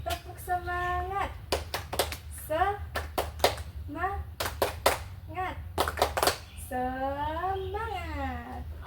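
Third-grade primary school children in a classroom clap a rhythmic cheer in sharp bursts of claps, alternating with a teacher's and pupils' chanted voices over a steady low hum.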